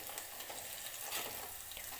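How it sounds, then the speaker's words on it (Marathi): A spoon stirs a sizzling tempering of coconut and garlic crumble in hot oil in a pan for moong dal, with a close, continuous crackle and scraping and no voices. "चमच्याने व्यवस्थित हलवून घेते."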